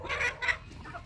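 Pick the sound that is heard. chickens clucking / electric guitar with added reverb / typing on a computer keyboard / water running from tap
chickens clucking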